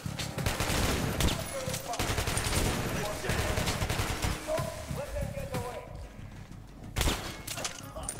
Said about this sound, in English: Oh, this shotgun's all right.